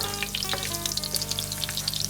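Garlic fries hard in a pan for squid adobo, already starting to burn, with a close, continuous crackling sizzle and bursts of spitting oil.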